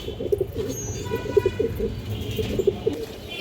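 Pigeons coo repeatedly at close range in a pigeon sale setting, with soft rhythmic throaty calls overlapping against a busy background murmur.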